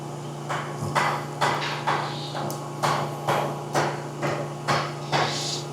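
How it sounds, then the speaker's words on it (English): A sheet metal hammer strikes a mesh vent panel to shape it, about a dozen sharp metallic taps in a steady rhythm, close and fairly loud over a faint background hum. "we got a lot of really easy shaping that can come from just hitting this stuff out with a sheet metal hammer"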